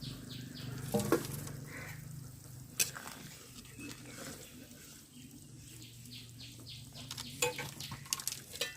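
Fried rohu fish pieces go into a simmering fish curry, with a few sharp clinks and scrapes of a utensil over a low, steady bubbling and sizzle, close by and without talk.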